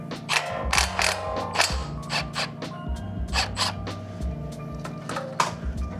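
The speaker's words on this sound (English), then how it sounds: "we're gonna use either impact or a 19mm socket up on top over here" Hand ratchet with a 19mm socket working loose a tie rod bolt on a Lexus GX460; repeated rapid clicking strokes in uneven bursts, close and fairly loud, with no talking.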